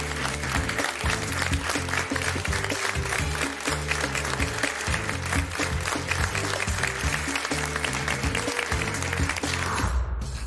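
A studio audience applauds loudly: dense, sustained clapping that holds steady for about ten seconds before cutting off abruptly at the end.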